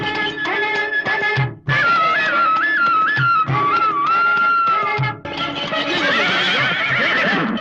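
A horse neighs and whinnies loudly and at length, repeated whinnies in close succession with faint hoof clip-clop beneath, no talking.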